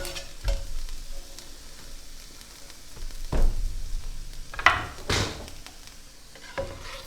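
Ribeye steak sizzles and fries in a hot pan for cheesesteaks, a steady close crackle broken by a few scraping stirs and clanks of a utensil against the pan.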